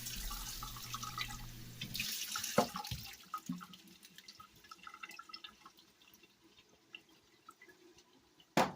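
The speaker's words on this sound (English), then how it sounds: "fill it with water, and just kind of close it enough so you can kind of shake and rinse the beans" Tap water runs into an opened can of beans as they are rinsed and shaken, a close, steady splashing and trickling with scattered drips that eases off and turns sparser toward the end.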